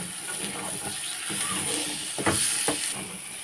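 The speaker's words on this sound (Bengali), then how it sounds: "সব মশলা দিয়ে ভালো করে কষিয়ে নিয়েছি" Chicken coated with Everest chicken masala stir-fries in a pan, a steady hissing sizzle close by, with a few sharper scraping stirs near the end.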